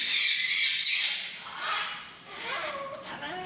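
A parrot named Sassy in an aviary at The Oasis sanctuary lets out harsh squawks, loud and close at first, then fading, followed by a few rising calls.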